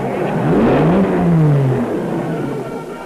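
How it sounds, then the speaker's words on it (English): A Jaguar race car at the 1953 Le Mans 24 Hours pulls away, engine note climbing then fading as it departs, heard on an old historic recording with a faint hiss. "And then down with the bonnet, and Walker takes off again."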